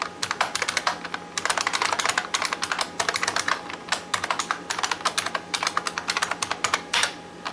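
Passphrase typed on a computer keyboard in quick bursts of crisp key clicks, close and clear, with brief pauses between runs of keystrokes and no talking.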